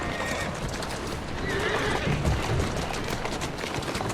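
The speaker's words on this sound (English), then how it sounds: "Who's a good horse?" A horse in the Assassin's Creed Syndicate video game neighs while its hooves clip-clop rapidly at a run, set against a busy, moderately loud game soundscape.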